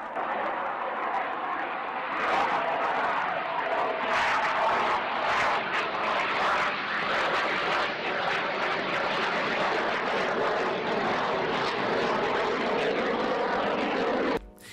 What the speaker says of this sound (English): an F-18 operated by the Finnish Air Force was captured taking off from a highway